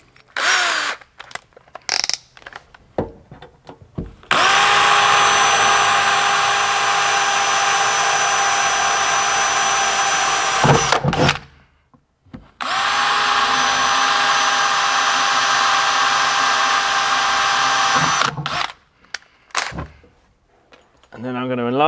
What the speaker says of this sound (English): I'm going to do a pilot hole with my 2mm.